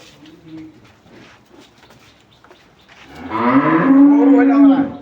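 A cow at a cattle market lets out one long, loud, close moo after a few seconds of quiet low background chatter and faint calls.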